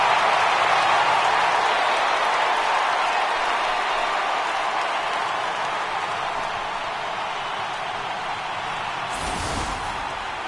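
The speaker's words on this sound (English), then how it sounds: "And the home crowd has really come to life here in the bottom of the 8th" A home crowd at a baseball video game between the Padres and Astros, late in the game in the bottom of the 8th, makes a steady, broad roar of cheering that eases slightly toward the end.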